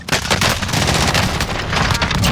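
Rapid, loud gunfire from a shotgun in the Call of Duty Warzone video game, a dense barrage of overlapping shots packed close together across the whole moment with no talking.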